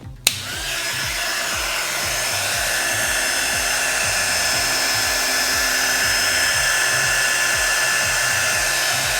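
A heat gun blows steadily close by, warming wrap film on the headlight of a BMW E30 with an S62 engine. The drone starts after a brief click and holds a loud, even whine throughout, with no voices.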